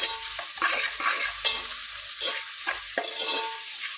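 Small-fish curry masala frying in a pan, a bright close-up sizzle with rhythmic stirring scrapes every half second or so, steady and loud throughout with no talking.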